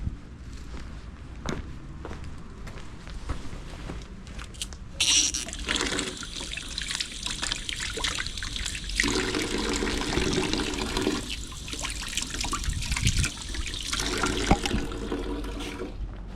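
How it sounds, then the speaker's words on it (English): Hands are rinsed under a running tap after handling lawn grass, a steady rushing stream of water lasting several seconds with a few scuffing footsteps and handling noises nearby. "Let me wash my hands because I was touching that."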